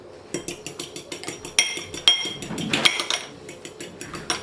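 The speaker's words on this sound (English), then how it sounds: "I'm just gonna grab an egg, whisk it real quick" An egg is whisked quickly in a bowl, a rapid, steady run of close metallic clinks and taps against the bowl's sides, with a few sharper ringing hits.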